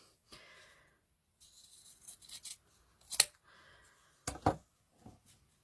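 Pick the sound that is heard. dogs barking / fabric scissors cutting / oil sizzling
fabric scissors cutting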